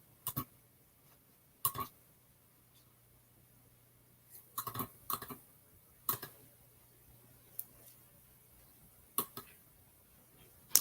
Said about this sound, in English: I feel like Lydia clicking this mouse all hard.